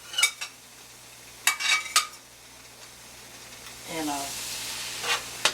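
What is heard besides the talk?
onions sautéing in olive oil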